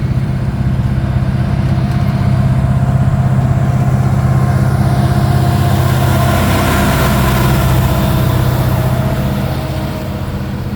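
A Union Pacific freight locomotive runs close by with a loud, heavy diesel drone and steady low hum. The sound stays constant, then eases slightly near the end.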